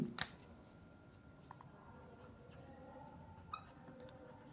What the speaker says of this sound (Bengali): প্রথমে এটা লিখি